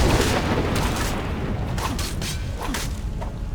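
Fire spell striking with a sword in a fantasy video game: a dense, roaring rush of flame with repeated whooshing bursts and thuds, loud and continuous throughout, with no talking.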